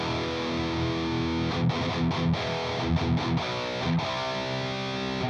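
A heavily distorted electric guitar through an angled speaker cabinet, miked with a ribbon mic, chugs out thick, saturated chords, loud and continuous, with short choppy stops partway through.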